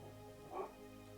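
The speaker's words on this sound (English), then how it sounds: "Stop with the barking." A dog lets out a single short, faint bark or yip indoors while someone works at bobbin lace, with the sound briefly rising above a steady low background hum.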